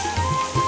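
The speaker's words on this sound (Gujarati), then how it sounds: "વરસાદ તમે જોઈ શકો." Rain pours steadily during heavy monsoon rain near parked tractors in a village, a dense, loud patter of drops hitting surfaces with a faint steady hum beneath.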